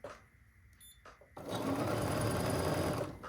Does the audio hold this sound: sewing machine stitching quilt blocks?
yes